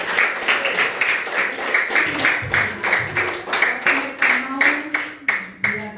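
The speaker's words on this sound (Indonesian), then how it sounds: "Terima kasih, tepuk tangan." Congregation at a Catholic closing mass for a children's retreat claps for the nurses and staff, a steady wash of many hands lasting several seconds, with voices speaking over it.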